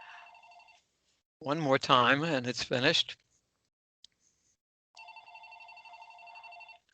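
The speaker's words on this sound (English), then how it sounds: "pardon that phone ringing" A telephone rings indoors during an interview, its repeated electronic trill audible before and after someone speaks over a silent stretch, with a single faint click in between.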